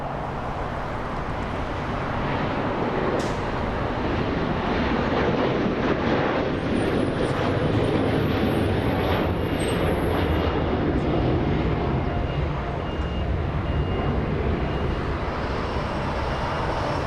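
Air Premia flight 102 takes off from Los Angeles International Airport, a broad, steady jet engine roar at moderate distance holding throughout with no talk.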